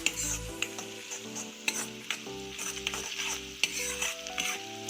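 Onion roasting in a pan for Gujarati kankoda shak, a soft sizzle under repeated spatula stirs and scrapes at an irregular pace, close up, with a faint steady hum in the background.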